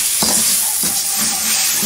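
Garlic mixture being stirred in a frying pan, with a steady sizzling hiss and two soft scraping strokes of the utensil across the pan.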